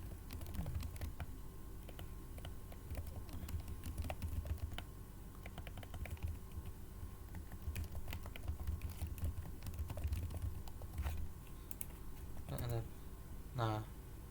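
Quiet clicking of a computer keyboard as lines are typed and Enter is pressed for new lines, faint and continuous under a person talking.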